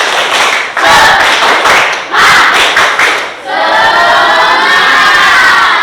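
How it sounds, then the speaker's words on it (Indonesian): A school classroom of students does a rhythmic spirit clap, loud and close, with bursts of unison clapping in a steady pattern broken by brief pauses, ending in a sustained chorus of shouting voices. "tepuk semangat"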